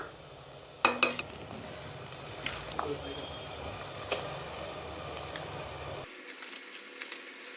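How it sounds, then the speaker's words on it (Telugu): Mutton goes into a pan of fried onions and spices, where it sizzles steadily as a spoon scrapes and clinks against the metal. The sounds are close, and the sizzle cuts out near the end. "ఇప్పుడు మనము మటన్ వేసుకుందాం దా దగ్గరికి రా మటన్ వేస్తున్నా"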